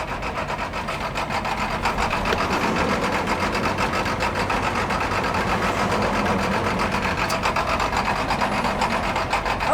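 School bus engine running rough and close to stalling: a dense, steady mechanical chatter with fast rhythmic knocking and rasping, moderately loud and continuous throughout, no talk over it.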